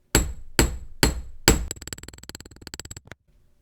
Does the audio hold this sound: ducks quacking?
no